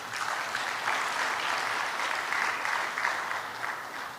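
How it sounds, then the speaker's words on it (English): Sustained applause from a conference audience at an economic forum on non-oil exports in Lagos, Nigeria, a dense, steady wash of many hands clapping at even loudness throughout, with no talk over it. "I think they deserve a round of applause."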